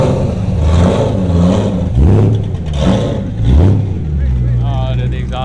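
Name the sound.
supercar engine with choppy idle revving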